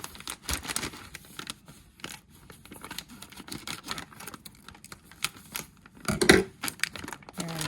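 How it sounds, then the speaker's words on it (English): A plastic bag of coconut being cut open with scissors in a home kitchen: irregular crinkling and snipping with rustles, a louder crisp cut near the end, close by and with no talking. "Let's cut the coconut bag open."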